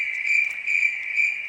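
A cricket sound effect from a picture book chirps in a steady, bright, pulsing trill, loud and close, with short rhythmic bursts repeating throughout and no voices present.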